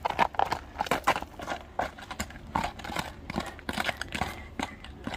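A strong horse's hooves clop in an irregular, close series of thuds and scuffs, fairly loud against a noisy outdoor background.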